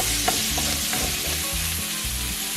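Bacon frying steadily toward crispness in a pan at moderate heat, a dense continuous sizzle and crackle with a few faint scrapes, close and alone without talk.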